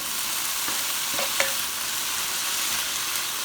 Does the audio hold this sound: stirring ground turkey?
yes